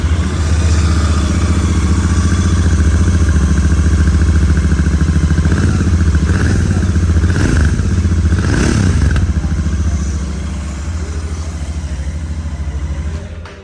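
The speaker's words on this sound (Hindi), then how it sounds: "अब दोस्तों ऑन करके एक बार एग्जॉस्ट नोट भी सुना देता हूँ आपको" A 2023 Royal Enfield Interceptor 650 idles steadily up close, its twin exhaust giving a loud, continuous low throb with a few brief revs and some mechanical clatter, then settling slightly quieter near the end; no one speaks.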